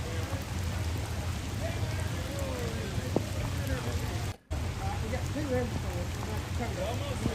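Heavy rain pours steadily during flooding in Brandon, Mississippi, a dense, continuous hiss that holds at the same loudness throughout, broken only by a brief dropout near the middle.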